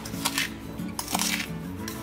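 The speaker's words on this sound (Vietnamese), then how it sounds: "mình sẽ trộn cái phần bột rau câu nè với đường lên" Agar jelly powder and sugar being stirred in a bowl, with light clinks and scrapes of a spoon against the bowl in a quick irregular rhythm, close and fairly quiet.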